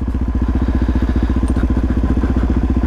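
Dual sport motorcycle on slick tires rides a woods trail, its engine thumping in a steady, fast, loud pulsing beat close to the listener, with no talk.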